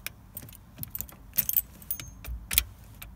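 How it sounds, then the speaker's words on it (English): Key being inserted and turned in the ignition barrel of a 1999–2005 Vauxhall Zafira A, a series of sharp metallic jingles and clicks spaced irregularly, close up and alone. "keying the ignition"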